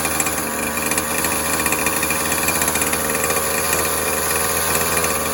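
A Poulan Pro hedge trimmer's small engine idles with a steady, buzzy, rattling drone, close and continuous throughout with no talking.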